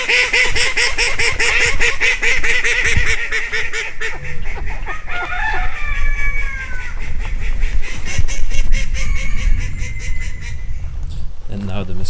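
Muscovy ducks and other poultry call while being herded, with loud close honking, quacking and rapid chattering calls throughout, plus a person talking briefly amid the birds.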